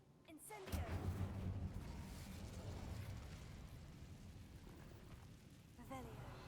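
An Incendio fire spell cast in the video game Hogwarts Legacy erupts into a sudden roaring blast, then a sustained rumbling whoosh of flames holds for several seconds before a faint second flare near the end.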